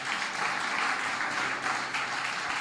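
A church congregation applauds steadily, dense continuous clapping filling the room at a moderate, even level throughout.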